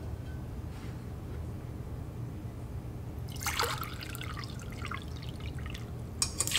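Water poured into a cooking pot for making pounded yam from yam flour, a splashy burst of pouring and trickling that starts partway through, close by over a steady low hum, with a couple of final drips at the end.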